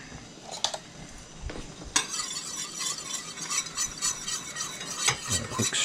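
A butter mixture stirred briskly in a pan: repeated close metallic scrapes and clinks of utensil against the pan over a soft sizzle, in quick uneven strokes.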